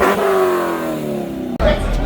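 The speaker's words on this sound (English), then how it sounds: "Nice little rev session." Car engine revving at a car meet, a loud rising rev that holds and then drops off, followed by another burst of noise, with voices and crowd sounds around it.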